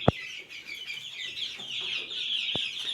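Two roosters and two hens, dwarf Cochin bantams, cluck and chatter steadily in a coop, with a couple of sharp knocks and faint background noise, no voices.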